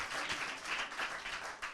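A brief burst of audience applause at a talk, a dense spread of many hands clapping at moderate distance, steady and fairly faint for under two seconds, no one speaking over it.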